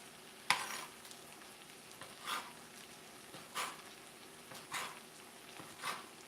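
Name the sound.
chicken frying in a pan for fajitas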